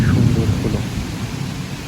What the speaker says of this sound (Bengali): তখন শুরু হলো কালবৈশাখী ঝড় ও বৃষ্টি।